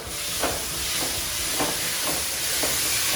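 Beef for Korean beef sizzling in a hot pan, a steady bright hiss with a few soft stirring scrapes recurring at irregular intervals, close and continuous with no talk.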